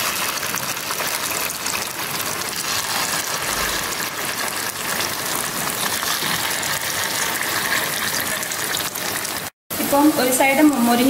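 Paniyaram batter sizzling in the wells of an oiled kuzhi paniyaram pan, a steady loud hiss throughout, broken by a brief gap near the end followed by livelier crackling.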